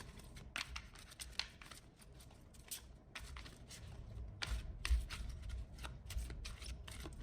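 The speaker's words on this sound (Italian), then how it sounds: "il mescolamento delle carte è fondamentale" Kipper fortune-telling cards are shuffled by hand close up, quick papery riffles and slaps coming in irregular bursts separated by brief pauses, quiet and alone without talk.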